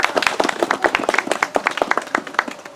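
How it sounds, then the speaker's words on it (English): Applause for the chief during a Maori cultural performance: a smaller audience claps in a rhythmic, fairly distinct pattern, individual hand claps clearly separated and close, lasting steadily throughout. "How about another round of applause for our chief?"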